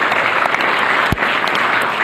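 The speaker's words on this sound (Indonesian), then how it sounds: "Tepuk tangannya dong." An audience claps in steady, dense applause at a large gathering, continuous and fairly close throughout the short stretch, with one dull thump partway through.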